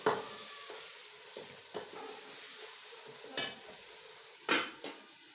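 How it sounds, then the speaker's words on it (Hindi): Meat is added to sizzling masala in a pot for paye gosht, frying softly while a spoon stirs with occasional scraping clinks against the pan. "ये जो मसाला हमारा भून चुका है। अब हम इसमें ये गोश्त शामिल करेंगे।"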